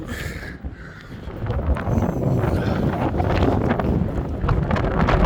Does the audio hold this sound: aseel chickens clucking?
no